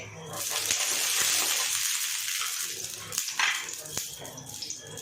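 Ghee sizzles on a hot iron dosa griddle set over a gas flame, a bright, steady hiss that swells and fades over a few seconds, with a voice speaking quietly at times.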